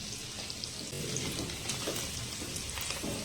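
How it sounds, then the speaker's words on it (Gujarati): Paneer sautés in butter over a medium gas flame with a soft, continuous sizzle and faint hiss, fairly quiet and close, with no talking. "મીડિયમ ગેસ પર આપણે સોતે કરવાનું છે,"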